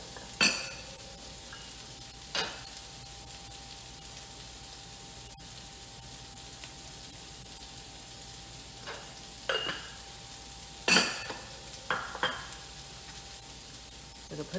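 Salted onions fry in a pan with a soft, constant hiss, a few sharp scrapes and clatters of a utensil stirring them sounding now and then.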